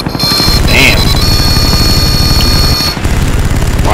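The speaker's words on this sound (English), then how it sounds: "Friendly Huey on the way." A Huey helicopter arrives in the video game Call of Duty: Black Ops, loud rapid rotor chop with a steady high whine and game effects, close and continuous.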